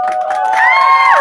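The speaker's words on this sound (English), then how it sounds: "Everyone, cue the applause." A cheering crowd with children shouting, bright voices rising together in a short, continuous burst of celebration.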